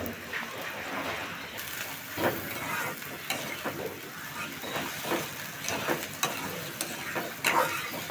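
Hilsa fish frying in oil in a pan, a continuous crackling sizzle with repeated scraping stirs and utensil knocks close by, moderately loud throughout.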